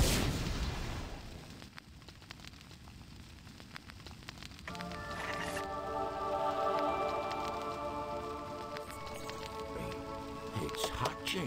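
Dragon egg hatching in a fire in the Harry Potter and the Sorcerer's Stone PC game: a crackling, rain-like hiss builds into a sustained magical shimmer of layered ringing tones over the second half, with no talk.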